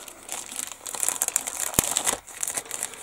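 Taped plastic bag from a 1/32 Kawasaki Ki-45 model kit being handled, close crinkling and rustling of thin plastic with one sharp crackle midway, alone and fairly loud.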